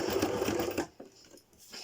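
A sewing machine stitches paper bunting in a loud, fast steady whirr that runs for under a second, then stops abruptly and leaves only faint low room noise.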